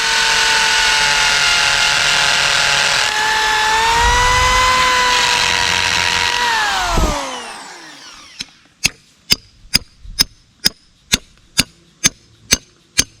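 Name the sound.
power drill drilling a hole for a foundation pin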